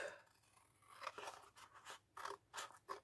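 Scissors cutting paper for a pop-up album in a series of short, close, crisp snips with brief pauses between them, quiet and without talk.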